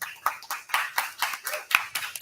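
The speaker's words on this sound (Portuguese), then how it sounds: "salva de palmas aí para o Gustavo." Sparse, rhythmic hand claps from a small audience at a tech community talk, about ten distinct claps in a couple of seconds, fairly close and not very loud.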